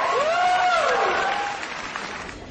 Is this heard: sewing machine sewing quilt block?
no